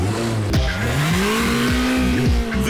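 A lightweight Ariel Atom sports car driven hard at speed, its engine note rising loudly and then dropping sharply with each quick gear change, three shifts in rapid succession close to the listener.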